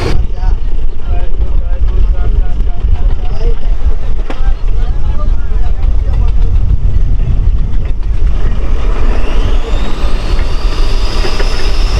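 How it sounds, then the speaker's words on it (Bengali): A motorboat engine drones loud and steady as the boat pulls away through Sundarban waterways, with wind buffeting the microphone and a person talking over it. "এইবার আমাদের বোট এখান থেকে বেরিয়ে যাচ্ছে"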